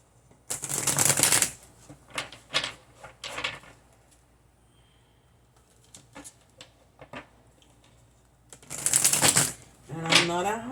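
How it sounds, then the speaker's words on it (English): A tarot deck is shuffled in two loud, riffling bursts near the start and again near the end. Softer card handling and a speaking voice fill the gap between them. "gonna shuffle this really good"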